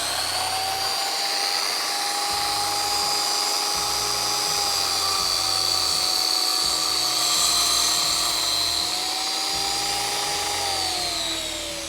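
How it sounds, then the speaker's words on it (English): Power saw cutting 2x4 wooden frame pieces for a cornhole board, a loud continuous high-pitched whine that holds steady throughout, with a slight pitch dip as the blade loads near the end. "right now I'm going to cut out my frame pieces"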